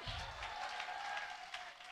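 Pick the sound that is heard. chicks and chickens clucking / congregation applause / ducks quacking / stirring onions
congregation applause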